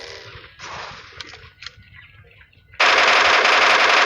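An MK14 rifle fires in PUBG Mobile, with scattered shots and distant gunfire early on, then a loud, sustained rapid burst close up for the final second and a half.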